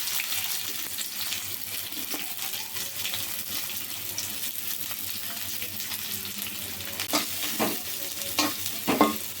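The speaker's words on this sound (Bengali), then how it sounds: "এখন কড়াইতে তেল দিয়েছি এখন কতগুলো পেঁয়াজ ছেড়ে দিল" Onions sizzle in hot oil in a wok while frying beef, a steady bright crackle with occasional scraping and clinks of a spatula stirring.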